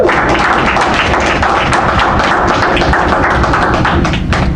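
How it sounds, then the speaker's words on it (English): An audience at a clean energy press conference in Richmond, Virginia claps loudly and continuously for several seconds, a dense close patter of hands with no talk. "So let's give that a big round of applause"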